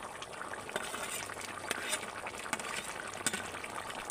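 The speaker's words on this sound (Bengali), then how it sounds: "এবার আমি ভেজে রাখা চিংড়িগুলো ঝোলের মধ্যে দিয়ে দেব।" Fried prawns go into boiling gravy in a pot, giving soft bubbling and stirring with a few faint utensil clinks, all fairly quiet.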